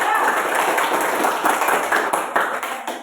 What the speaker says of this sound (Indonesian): Ya, tepuk tangan sekali lagi ya.